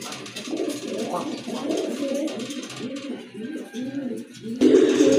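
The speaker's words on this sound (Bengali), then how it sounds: "আরেক জোড়া কবুতর" Pigeons offered for sale as breeding pairs coo in soft, repeated low throbbing phrases, close by and overlapping, with a louder burst near the end.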